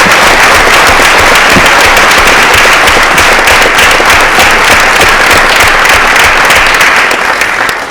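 Loud, dense audience applause for winners and scholars at a school committee meeting, a steady crackling wall of many hands clapping throughout, trailing off slightly at the end.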